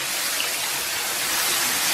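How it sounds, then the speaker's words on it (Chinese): Cold water pours into a pot of pork ribs in a steady, close rush for a couple of seconds, an even hissing stream with no talking. "然后给锅里边稍微来点这个"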